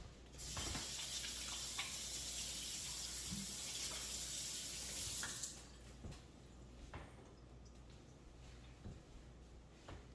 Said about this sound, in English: I'm going to go wash my hands quick